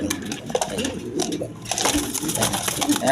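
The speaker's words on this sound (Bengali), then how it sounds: "দেখার মতো কবুতর" Pigeons at a Bangladeshi pigeon seller's loft coo in low, repeated murmurs throughout, mixed with flapping and shuffling noises and occasional voices in the background.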